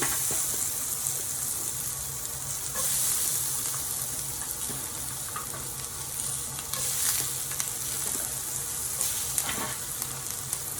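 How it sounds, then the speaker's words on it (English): Vegetables sautéing in about a tablespoon and a half of oil in a pan for pepper steak, a loud continuous close sizzle with occasional spatula scrapes and clicks throughout, with no talking. "now we're just gonna get our veggies sauteed"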